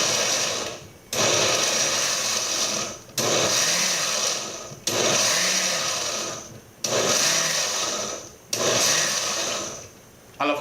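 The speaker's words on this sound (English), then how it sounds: "Don't blend it too much, or pulse it, and make sure it just get nice and small" A kitchen blender pulses pimento peppers in five short whirring bursts of a few seconds each, with brief pauses between them. The sound is close and loud.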